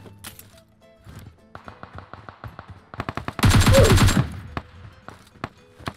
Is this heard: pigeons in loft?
no